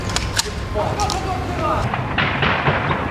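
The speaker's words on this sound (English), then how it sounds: "Volleys of gunfire were being traded in residential streets, civilians running desperately for safety." Volleys of gunfire traded in residential streets during urban fighting, heard as a dense run of sharp cracks and distant booms over a continuous rumble, with voices shouting faintly in the background.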